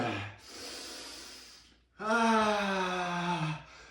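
Heavy breathing follows a workout blitz. Two long, loud exhales are heard, the first airy and rushing, the second a voiced, sighing gasp, separated by a short pause.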